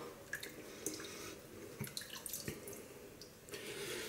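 Water is poured into a shaving mug, giving a short run of close splashing and trickling with a few distinct drips.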